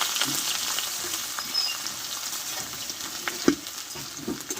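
Ginger, chili and potatoes fry in a pan for a pea and potato vegetarian dish, a soft steady sizzle with occasional stirring clinks and scrapes, heard alone at low level.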